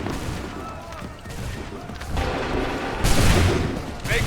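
Musket volleys in Assassin's Creed 3 crack out in bursts of overlapping shots, with a heavier loud volley near the end and faint battlefield noise between the reports.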